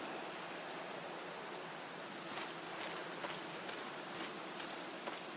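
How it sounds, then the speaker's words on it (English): Steady rain falls in the video game NiBiRu: Age of Secrets, a dense, even hiss of drops pattering on a surface that runs without a break, with a few slightly louder spatters near the end. "It's still Just raining."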